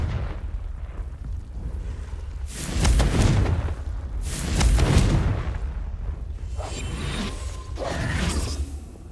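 Confringo blasting spell in Hogwarts Legacy, a series of three loud whooshing explosions a couple of seconds apart, each swelling and fading with a rumbling tail.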